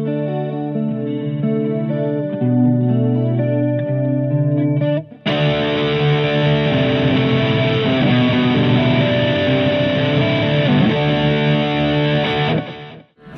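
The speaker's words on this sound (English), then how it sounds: "I'm going to go from a clean sound to distortion sound only with a pick." Electric guitar played through a Boss GT Pro multi-effects unit, first a clean chiming tone for about five seconds, then switching abruptly to a loud, thick distorted sound played alone with a pick.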